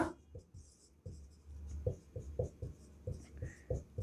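Pen strokes scratch across paper as sea names are written onto a blank map, a close series of short rhythmic scribbles with brief pauses between words.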